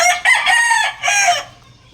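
An old dark-legged pumpkin sweater broodcock, about three years old, gives a single loud, close crow in a few rising and falling segments, ending in quiet.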